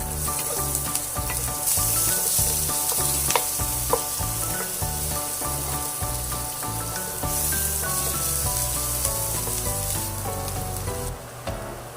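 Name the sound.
garlic and onion sautéing in a pan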